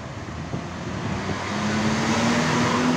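A Patas express bus on the Surabaya–Jember route rolls into Purabaya bus terminal at Bungurasih on a Sunday afternoon, its engine drone swelling steadily closer over broad traffic rumble, with a faint rising whine.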